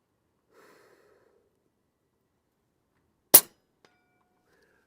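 A single sharp shot from an AirMaks Katran .25 air rifle at an airgun expo, one loud close crack in near silence, preceded by faint breathing and followed by a tiny click.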